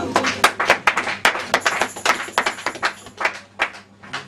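A church congregation claps to acclaim the Lord, a loud run of sharp, roughly steady hand claps that keeps going throughout, with faint voices mixed in.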